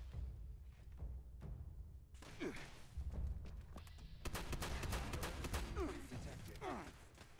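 Rapid bursts of turret gunfire in Fallout 76, sharp repeated cracks that thicken into a dense volley in the second half, moderately close over a rumbling game background with brief voice fragments.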